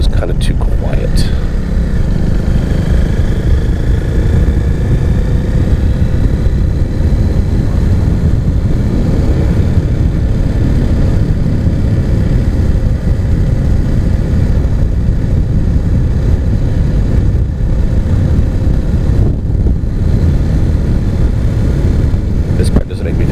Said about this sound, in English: to get a louder exhaust